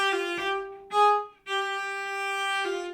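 Cello playing staccato notes in a grade 5 Bourrée d'Auvergne, the bow stopped on the string between strokes, giving a few short, close, separated tones with brief gaps.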